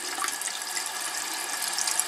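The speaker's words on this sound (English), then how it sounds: "So I just turn my water on." Lukewarm water running steadily from a sink tap, a continuous close hiss and splash used for rinsing a makeup brush.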